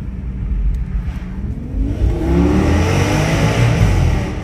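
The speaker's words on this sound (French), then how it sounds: "Vous avez vu le son moteur?" A nearby Audi S8 engine revs up, its loud rumble rising in pitch and swelling into a sustained, throaty roar.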